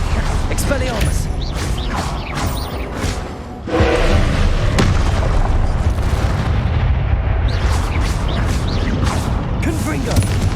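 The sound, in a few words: Confringo blast spell explosions in the video game Hogwarts Legacy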